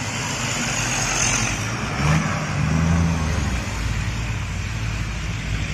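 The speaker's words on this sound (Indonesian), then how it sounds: "Tronton Puso guys, Tronton Puso menanjak." A loaded Hino Tronton truck engine labours steadily up an incline, its deep, continuous rumble and roar close and loud with wind noise and no talking.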